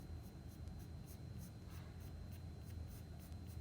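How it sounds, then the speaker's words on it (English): Pencil drawing mouse ears on paper, a steady, continuous scratchy stroking that stays close and quiet with a low room hum underneath, no talking. "we are going to go draw the ears now"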